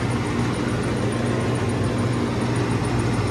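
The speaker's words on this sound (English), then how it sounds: "My compressor's going to fire up, which it already was, because the left compressor runs the cabinet" The cabinet compressor of a Stoelting soft serve machine, which is not pumping, runs as a steady, dense, low mechanical hum that stays close and constant throughout, with no voices.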